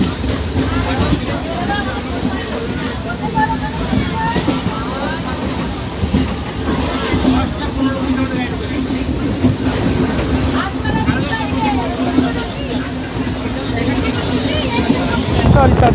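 Mecheda–Digha 08135 local train running on the rails, a steady loud rumble and rhythmic clatter that lasts throughout, with voices of passengers talking in the background.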